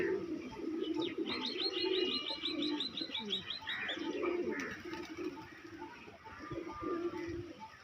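Pigeons coo softly and repeatedly in low throaty calls, with a quick chirping bird and faint background murmur around them.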